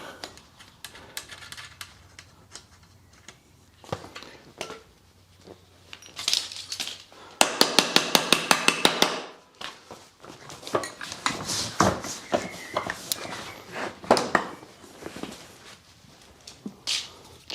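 Sharp metallic taps knocking apart a Land Rover Defender seat frame part, scattered hits with a fast rattling burst of strikes in the middle, close and fairly loud, no speech.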